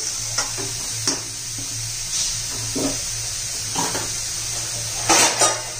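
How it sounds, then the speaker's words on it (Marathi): Chutney is stirred in a pan with soft, irregular scrapes and light clinks over a steady faint sizzle, no voices. "व्यवस्थित मिक्स करून घेऊया."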